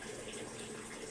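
Water streams steadily from a tap while dishes are washed, a constant broadband rush with no pauses and no voices.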